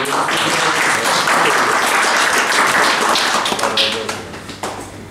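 Audience applause at a tournament final, a dense, steady clapping from a crowd that holds loud for about four seconds before thinning out toward the end.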